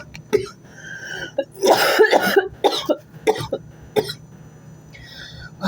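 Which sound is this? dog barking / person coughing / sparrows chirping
person coughing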